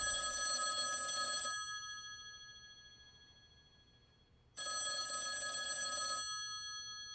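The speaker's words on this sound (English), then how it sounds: "that phone over there is gonna ring" A telephone bell rings loudly in two long bursts separated by a short pause, each ring a bright metallic trill.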